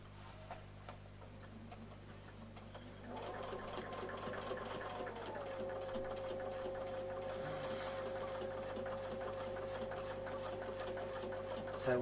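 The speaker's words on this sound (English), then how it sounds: "So I'll sew all the way around to here" A sewing machine stitches around a circle template, starting after a few quiet seconds into a steady fast mechanical ticking hum that runs on continuously at moderate volume.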